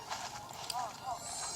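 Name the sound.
horse hooves clip-clopping in The Legend of Zelda video game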